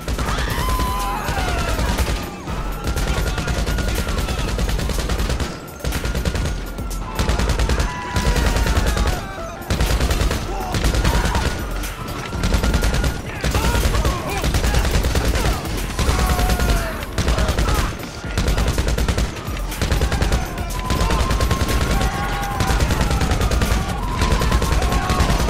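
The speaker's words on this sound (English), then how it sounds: "For the SMG and LMG weapon slot, you only need one, and it's the Combat MG Mark II" Combat MG Mark II light machine gun from GTA Online firing in repeated sustained bursts, loud and close, with short pauses between volleys amid in-game combat noise.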